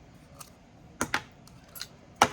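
Plastic clicks from squeezing both sides of a Stihl Autocut C 3-2 trimmer head for an FSA 57 battery grass trimmer to open it, a few sharp snaps and rattles with short pauses between, close and clear.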